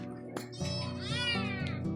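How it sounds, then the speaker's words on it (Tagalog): A cat gives a single drawn-out meow that rises and falls, close by and clear, with a low background hum beneath it. "Ito pa yung pusa."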